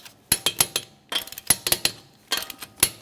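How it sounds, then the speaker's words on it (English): A torque wrench ratchets in quick bursts of close metallic clicks while tightening 21mm lug nuts on a 2014-2019 Toyota Corolla wheel, with short pauses between sets. "let's torque each one of our 21mm lug nuts to 76 foot-pounds"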